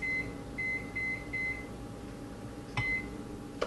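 A kitchen oven timer beeps while cookies bake: a steady, high electronic tone repeating in several short pulses, then a brief clatter and one last beep, with a faint room hum beneath.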